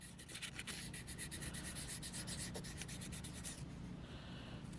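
Something rubbing back and forth over a sticker on a shower door to clean its surface, a close, quiet, rhythmic scrubbing with regular strokes that ease off near the end.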